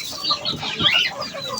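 A hen on a backyard poultry plot gives a steady, fairly loud stream of clucks close by, with no voices over it.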